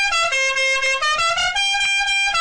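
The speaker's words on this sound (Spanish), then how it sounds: "lo escuchan en la bocina o el claxon del camión, el camión del gas, el camión de la basura o el transporte público" A Mexican truck horn, the kind on gas delivery trucks, garbage trucks and public buses, plays a loud, continuous musical honking with a steady tone and slight pitch shifts through the whole stretch, no talking.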